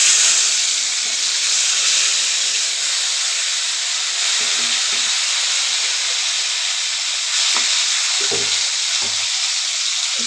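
Bay leaf, cumin seeds and chili-cumin paste fry in hot oil for a fish curry, giving a loud, steady sizzling hiss close by with a few faint stirring knocks.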